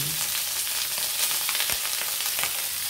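Cooked rice tipped into a pan of browned, sizzling garlic, producing a loud continuous frying hiss with scraping stir sounds through the whole stretch.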